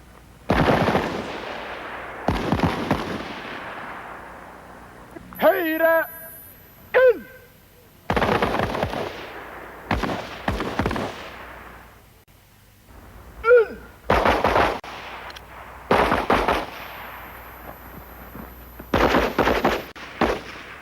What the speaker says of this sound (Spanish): se examina la puntería de los soldados con pistolas y fusiles automáticos